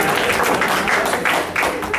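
Applause at a recreational baseball league awards banquet, a brief swell of indoor crowd clapping with murmuring voices mixed in, fairly loud and close throughout.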